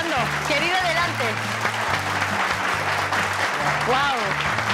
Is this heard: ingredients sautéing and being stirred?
no